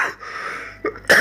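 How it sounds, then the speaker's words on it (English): A man has a coughing fit, with several sharp, close coughs and harsh bursts separated by short gaps, loud and alone without speech. "I'm having a right old coughing fit"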